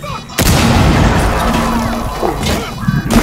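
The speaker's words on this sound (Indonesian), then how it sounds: "Aku pun nak campak bom saja." Bomb blast in the tactical shooter Rainbow Six Siege, a sudden loud boom that cuts in early and rumbles on under chaotic game noise with players talking over it.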